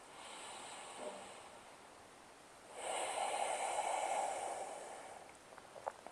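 Slow, deep breathing during a hip-release yoga session: a soft, airy breath near the start, then a longer, louder breath of several seconds, with no talking.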